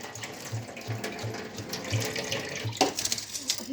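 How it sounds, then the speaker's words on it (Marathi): Potatoes being washed under a running kitchen tap: a steady rush of water with rhythmic low knocks of potatoes being handled in the sink and a sharper clatter near the end, close up. "आधी आपण स्वच्छ बटाटे धुवून घ्यायचे"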